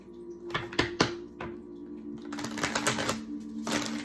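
Cards are shuffled close up: a few sharp snaps and taps, then a longer burst of rapid riffling flutter, with a low steady hum beneath.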